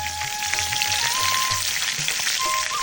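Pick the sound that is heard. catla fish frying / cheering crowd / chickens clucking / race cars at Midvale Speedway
catla fish frying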